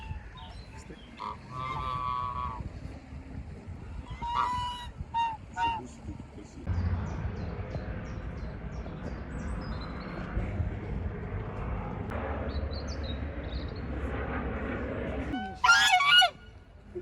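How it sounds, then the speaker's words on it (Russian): Geese honk in short bursts, some nearby, over outdoor background rumble with low murmuring voices, during an Easter outing in Oldenburg, Lower Saxony; a louder cluster of honks comes near the end. "мои ребята, вон, смотри, встретили гусей"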